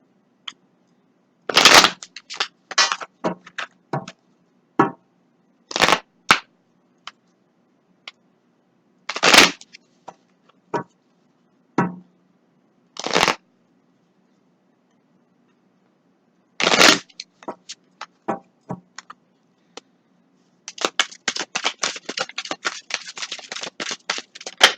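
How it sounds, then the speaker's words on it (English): An Orisha Oracle card deck is shuffled by hand in sharp, crisp riffling bursts separated by quiet pauses, ending in a quick run of rapid flicks, close and clear in an otherwise silent room. "Let me shuffle them first."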